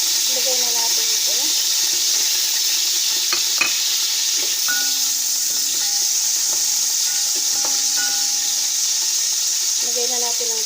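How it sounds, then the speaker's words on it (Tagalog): Onions sizzle steadily in a hot pan for Arabic mandi while being stirred, with a constant loud frying hiss, scattered scraping clinks of the utensil against the pan, and a brief voice near the end. "lalagay na natin yung sibuyas"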